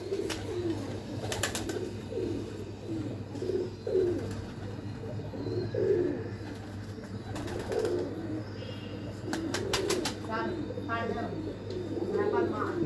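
Breeder pigeons on an enclosed rooftop coo in soft, repeated low calls throughout, with bursts of other bird chirps and a steady background hum.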